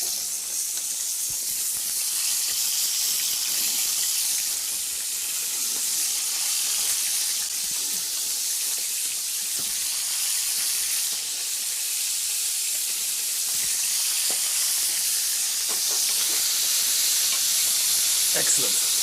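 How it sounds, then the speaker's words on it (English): Meat browning in hot oil in a frying pan gives a loud, continuous hissing sizzle, close and unbroken throughout, with a few faint ticks and no talking. "And put in some meat to brown the meat."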